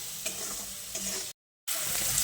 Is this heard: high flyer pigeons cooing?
no